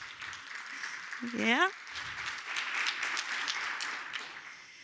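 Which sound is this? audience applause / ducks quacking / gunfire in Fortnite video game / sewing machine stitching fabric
audience applause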